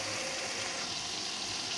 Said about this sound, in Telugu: స్టవ్ సిమ్లో పెట్టుకొని కాస్త వేయించుకోవాలి చికెన్.